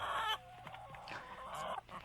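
A broody hen clucks in a series of short, close, fairly quiet calls with brief pauses between them, and no talk is heard.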